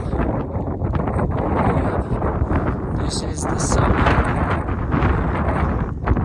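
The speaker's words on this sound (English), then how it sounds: "it is windy up here" Strong wind on the 13,510-foot summit of Trinchera Peak in Colorado's Sangre de Cristo Mountains buffets the microphone in gusty rumbling waves while someone talks over it.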